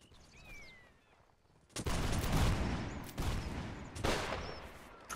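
Musket volleys crack out in Mount and Blade Warband, a loud ragged fusillade of many shots at once followed by two more staggered volleys, with faint bird-like whistles in the background before the firing starts.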